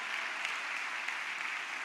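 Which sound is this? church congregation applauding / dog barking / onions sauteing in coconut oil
church congregation applauding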